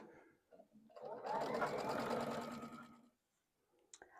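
Sewing machine stitching quilt rows together, a close, steady motor whir with rapid needle chatter lasting about two seconds, bracketed by faint handling of fabric and a light voice.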